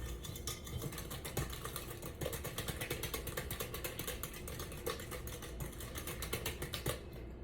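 Pecan pie tart filling is whisked in a bowl, giving rapid, steady clicking and tapping that runs close and unbroken throughout, with no voices.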